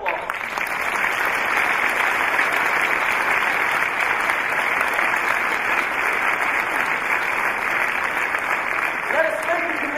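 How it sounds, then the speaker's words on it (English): A large audience at a rabbi's lecture delivers a loud, steady round of applause that holds evenly for the full ten seconds, with a brief voice near the end. "He deserves a tremendous round of applause."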